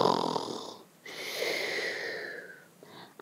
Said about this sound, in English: The little mouse has got its cheek on the table and it's snoring loudly